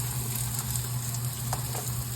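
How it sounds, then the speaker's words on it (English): Onions sizzle in hot oil in a pot for a Romanian chicken soup with vegetables, a steady close crackle and hiss with occasional pops. "now we're gonna add the onions into the hot oil. So you're gonna hear that sizzling"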